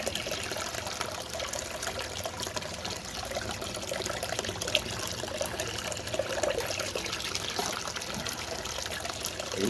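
Water runs in a bathroom, a steady faint trickling and splashing flow that continues without a break for several seconds, heard alone with no talking.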